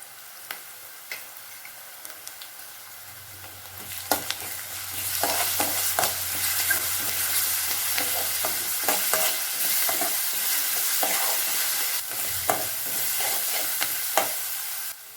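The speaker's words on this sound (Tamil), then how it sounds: "வெங்காயம் பத்து வாச பரவல் நல்லா வணக்கிக்கலாம் இஞ்சி பூண்டு பேஸ்ட் கொஞ்சம் சேர்த்துக்கலாம்" Onion sautés with ginger garlic paste for a chicken gravy, the sizzle swelling into a loud steady hiss partway through, punctuated by repeated clacks and scrapes of a spatula stirring close by.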